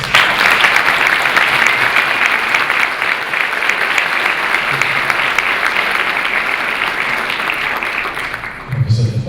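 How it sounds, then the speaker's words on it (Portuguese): Sustained applause from an audience at an academic colloquium, loud and steady for about nine seconds before fading at the end. "eu pediria a elas uma salva de palmas"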